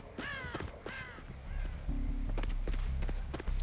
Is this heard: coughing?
no